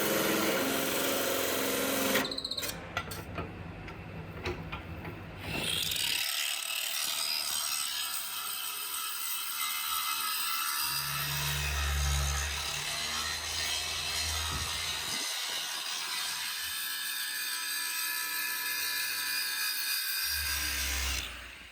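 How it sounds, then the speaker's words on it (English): A Damascus steel billet forged from steel cable being trimmed and its flats cleaned with power tools, a loud continuous grinding and cutting whine broken by short pauses and shifts in pitch. "We cut off the excess, cleaning the flats, taking measurements."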